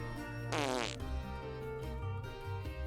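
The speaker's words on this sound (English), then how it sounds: "Yeah, fart noises" A loud, buzzy fart noise lasting about half a second stands out over steady game music and background sound during a Gunfire Reborn session.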